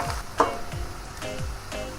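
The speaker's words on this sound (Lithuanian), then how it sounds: "tegul kepa." Clams fry in a pan with pepper, giving a soft continuous sizzle with a few light knocks and stirring scrapes, close by and without speech.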